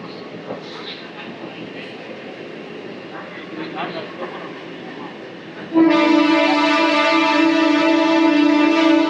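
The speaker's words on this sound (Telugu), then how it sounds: "1:45 స్టార్ట్ అవ్వాల్సిన ట్రైన్ అయితే 1:58 అయితే స్టార్ట్ అయింది" A Renigunta to Nandyal DEMU express train rumbling along the track, first a low steady roll with faint clatter, then a loud sustained horn blast that holds to the end, heard close from on board.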